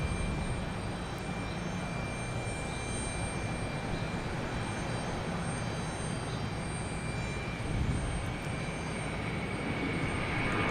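A JetBlue jet airliner at Logan Airport, a continuous moderate engine roar at some distance, steady with a slight swell near the end, and no talking.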